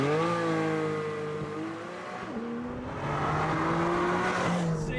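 Porsche 718 GT4 with PDK gearbox launching hard under launch control, engine note climbing steeply through gears with a brief dip at a shift, heard from inside or near the car, loud and continuous.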